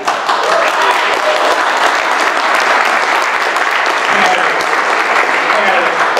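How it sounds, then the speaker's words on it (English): A large crowd at a by-election candidates' meeting applauds loudly and continuously, a dense wash of clapping that stays strong from start to finish. "And clap for him now."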